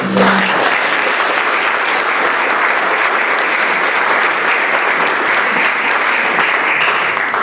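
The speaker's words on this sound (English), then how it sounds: "How about a round of applause for Susan and the work in history?" Sustained audience applause at an awards ceremony, a thick wash of many hands clapping evenly and loudly from start to finish with no pause.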